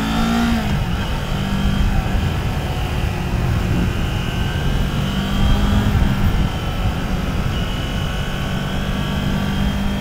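A 2023 Kawasaki Z400 motorcycle engine drones steadily while riding, loud and continuous with wind rush and a slight rise in revs midway.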